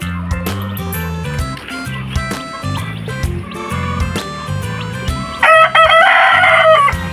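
A rooster crows loudly and close by among a flock of backyard pet chickens, with a long ringing call near the end and clucking and other fowl sounds in between.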